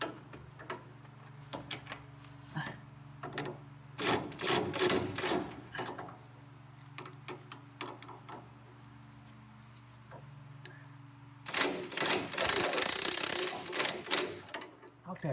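A 30 socket and crescent wrench tighten a shock bolt on a Ford Expedition, with bursts of ratcheting clicks and metallic rattling close by and quieter fiddling and low background hum between them.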